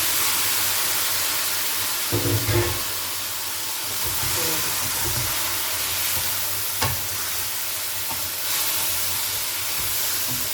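Squid hits a pan of frying garlic for a stir-fry with black pepper and coriander root, a loud, steady sizzle and hiss with occasional stirring thumps throughout.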